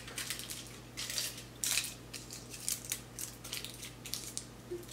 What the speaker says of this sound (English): we're just going to wrap this up in some foil